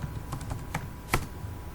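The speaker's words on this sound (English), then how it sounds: "I will check the Python version by typing a command line python" A command is being typed on a computer keyboard at a command prompt: a short run of separate key clicks with an irregular rhythm, close and alone.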